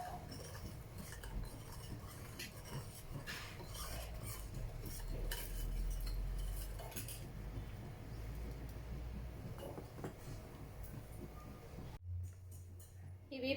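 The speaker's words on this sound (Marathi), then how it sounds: "हे व्यवस्थित हलवून घ्यायचं आहे।" A spoon stirs milk with two spoonfuls of sugar powder, giving faint, continuous scraping and light clinking against the vessel, with a brief quieter moment near the end.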